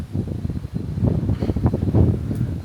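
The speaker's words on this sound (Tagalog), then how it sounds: "Tas lakas ng hangin, nakakabingi." Strong wind buffeting a microphone on a high balcony overlooking Laguna Lake and the mountains, a loud continuous low roar with gusting surges throughout.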